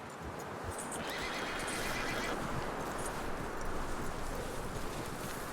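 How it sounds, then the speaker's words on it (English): Horse in the Red Dead Redemption 2 video game whinnies and neighs loudly close by, with hooves shifting and clopping amid light wind and rustling. "That looks like a decent horse."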